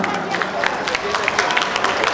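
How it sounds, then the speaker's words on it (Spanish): A crowd at a trade fair breaks into applause, a dense, steady wash of many hands clapping together, loud and close, with a few voices mixed into the noise. "Un aplauso que se sienta."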